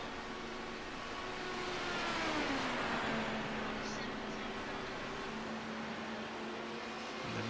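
The number 1 race car in an Indy 500 race: a sustained engine whine with a pitch that rises and then sweeps down as the car passes, heard under a commentator's voice.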